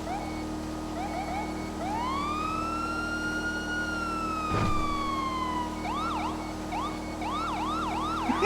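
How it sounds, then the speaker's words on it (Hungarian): Police car siren in a video game, sounding from a stolen cruiser: a long rising-and-falling wail followed by quick repeated yelps, loud and close, with a brief thump partway through. "De lehet szirénázni, de hogy tudok szirénázni? Most szirénázok."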